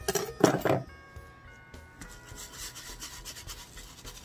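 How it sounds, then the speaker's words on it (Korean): Masato grit soil poured into a mother-of-pearl lacquer plant pot while repotting a golden euonymus, a short gritty rasping scrape of grains near the start, then faint scattered rubbing and settling. "대합토를 조금 더 넣고, 그다음에 마사루, 소림 마사루, 제가 한번 마무리를 져줘보겠습니다."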